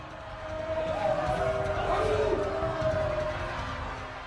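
A mob of more than 20,000 royalist protesters in Paris, a dense continuous crowd roar with no single voice standing out, steady and fairly loud throughout.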